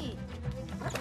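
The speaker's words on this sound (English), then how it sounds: "You're not a spirit guide, you're just a dumb dog!" Animated dog from Coco barks and whimpers in a few quick yips, close and fairly loud, over a busy film soundtrack with a voice speaking.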